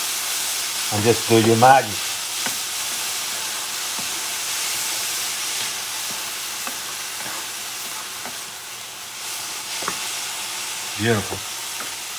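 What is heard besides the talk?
soy sauce sizzling in a hot pan with turkey leftovers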